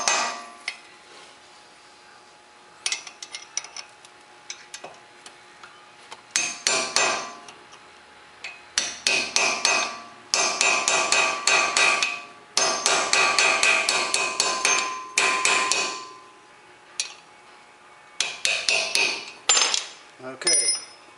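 A chisel is hammered into a seized brake rotor set screw on a 2003–2007 Honda Accord in a series of sharp metallic strikes in rapid clusters, separated by short pauses, close and loud.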